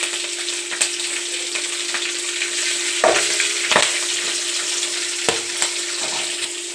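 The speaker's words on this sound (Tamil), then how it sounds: "தாளித்தோடனே ரெண்டு பச்சை மிளகா போட்டு நல்லா நம்ம அதை வந்து கலரி விட்டுக்கலாம்" Two green chillies hit hot tempering oil for a drumstick-leaf sambar, a loud steady hiss of sizzling with occasional clacks and scrapes of a spoon stirring in the pan.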